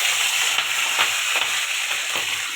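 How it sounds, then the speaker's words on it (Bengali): Prawns coated with salt and turmeric fry in hot oil in a wok, giving a steady close hissing sizzle with faint stirring ticks. "চিংড়ি মাছগুলো কড়াই দিয়ে দিলাম।"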